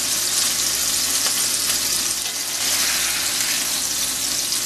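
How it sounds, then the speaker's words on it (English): Chicken pieces, about 2 1/4 pounds, sizzle steadily in hot butter in a pan, a loud, continuous crackling fry with no talking. "We've been browning these in butter for about 6 minutes aside"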